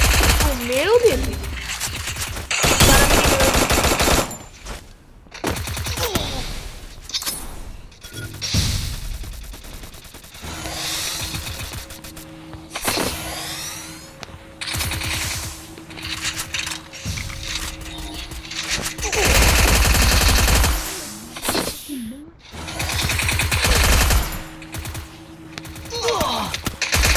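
Rapid bursts of gunfire in the mobile video game Free Fire MAX, loud sharp cracks and automatic volleys with mechanical reload clicks, interspersed with in-game effects and a person talking.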